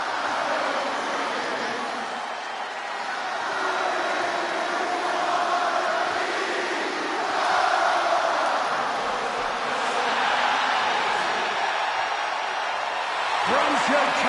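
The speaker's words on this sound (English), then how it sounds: "Just listen to this ovation for the Second City Saint." Arena crowd roaring in an ovation for CM Punk in his hometown Chicago in the video game WWE 2K26, a sustained loud wash of cheering with a commentator talking over it.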